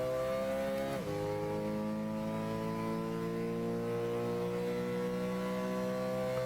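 Toyota Supra race car in Gran Turismo 6 holds a steady, loud engine drone with strong harmonics, shifting pitch sharply once near the start, then sustaining a high, even cruise with no talk.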